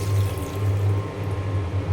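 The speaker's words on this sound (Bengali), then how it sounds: "এখন আমি পানি দিয়ে দেব, খুব বেশি পরিমাণে পানি দেব না," Water pours steadily into a pot of browned chicken curry on the stove, a continuous rushing splash under a low, constant hum, close and moderately loud with no voices.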